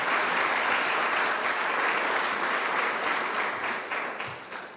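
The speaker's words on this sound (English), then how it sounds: "So please join me in a round of applause for everybody who made this building possible." Sustained crowd applause at the grand opening of a campus building, a full, even roar of many clapping hands that holds steady before easing slightly at the end.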